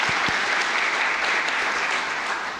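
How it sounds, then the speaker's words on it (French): A room full of people clapping steadily, a fairly even wash of applause at moderate volume, with a couple of low thumps near the start. "je pense qu'on peut applaudir Ricardo Oliveira."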